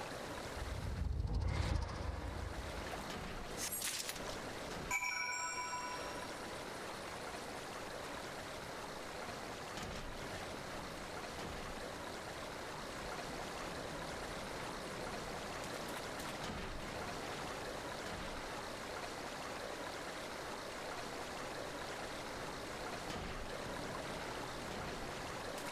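A Spriggan splashes around in water in a video game, producing a continuous, even wash of splashing and flowing water that holds steady for over twenty seconds after a few brief knocks and chimes at the start.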